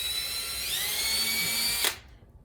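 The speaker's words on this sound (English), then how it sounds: "drill your hole where you want it." Cordless power drill boring a screw hole for a Dell 2007FP 20-inch monitor mount bracket, a steady high whine that rises slightly in pitch, then stops abruptly near the end; close and alone.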